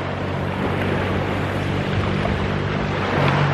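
Seashore on a morning beach walk, a constant broad rush of waves and wind filling the scene, steady and fairly loud with no voices.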